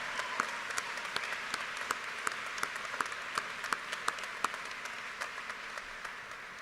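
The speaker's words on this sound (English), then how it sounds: "Can we have a round of applause for Mrs. Miller, Ms. Hernandez, Mr. Benz, and Mrs. Bass for their tireless commitment to our students?" Applause at a senior graduation ceremony honoring the school counselors, heard as a fairly quiet, distant crowd clapping with scattered sharper individual claps standing out over the steady patter.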